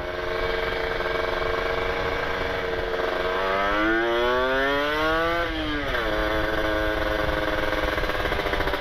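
A Kawasaki Ninja RR two-stroke motorcycle engine revs up and then falls back, its loud buzzing tone climbing and dropping over a steady, slightly stuttering idle, heard close and without talk.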